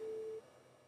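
A single steady electronic tone plays on a desk phone while an extension 1002 calls 1001, holding for under half a second before cutting off, faint and alone.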